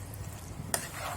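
Macaroni is stirred in a frying pan with sauce, a soft continuous sizzle and scraping under one sharp metallic click, fairly quiet and close.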